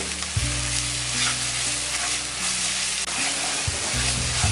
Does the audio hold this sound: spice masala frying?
yes